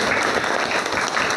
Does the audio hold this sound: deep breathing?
no